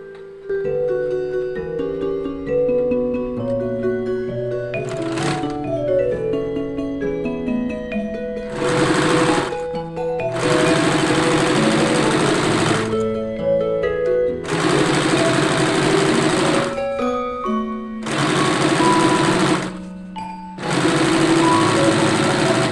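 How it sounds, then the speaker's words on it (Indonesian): A sewing machine stitches a curtain hem for a kitchen under-counter curtain, running in several sustained loud bursts separated by brief pauses, with the motor whine and rapid needle chatter close and clear. "ini yang atas 2 cm saya akan jahit"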